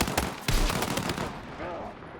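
Gunfire rings out in the video game Battlefield 6, a few sharp shots in quick succession at the start followed by fading noise, with a voice briefly over it.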